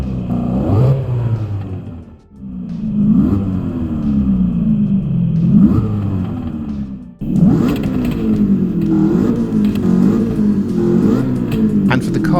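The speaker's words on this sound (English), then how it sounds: "The Shelby GT350 alone has 4 separate exhaust options in the game, each with unique recorded sounds for one car." A Shelby GT350's exhaust in a racing video game roars loudly, rising through repeated revving sweeps that climb and drop, with two brief cutoffs between pulls.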